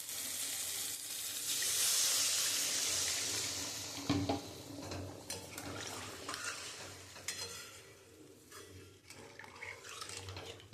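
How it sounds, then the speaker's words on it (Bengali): Water is poured into a hot pan for a katla fish curry, producing a loud hissing sizzle that swells and then fades into quieter bubbling, with scattered clinks of a utensil and no voices. "আমি এখন পরিমাণ মতন জল দিয়ে দেবো।"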